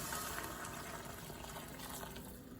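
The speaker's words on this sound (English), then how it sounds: "Add the water which has been boiling to this mixture." Quiet, steady splash of boiling water being poured into a pot of cooking upma mixture, a soft continuous gush with no talking.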